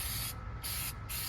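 Spray paint hisses onto the trunk of a 1987 Oldsmobile Cutlass Brougham in two steady bursts with a short pause between, loud and close.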